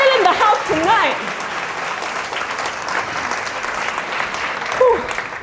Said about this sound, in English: Give yourselves a round of applause for filling the house tonight.